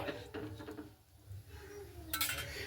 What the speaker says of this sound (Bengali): তো আমি এখানে ঢাকা দিয়ে দিচ্ছি